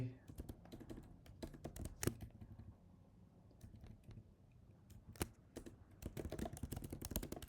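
Computer keyboard typing with uneven bursts of sharp clicks and pauses, close and fairly quiet, no one speaking over it.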